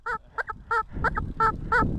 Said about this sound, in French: C'est les canards.